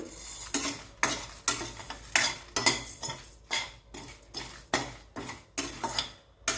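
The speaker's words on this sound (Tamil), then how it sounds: "அரிசி வந்து கொஞ்சம் கொஞ்சமாக பொரிய ஆரம்பிக்குது" Rice roasting dry in a pan for idli sambar spice mix, giving a steady run of sharp crackles and pops with scraping stirs at a quick, uneven rhythm, close and moderately loud with no talking.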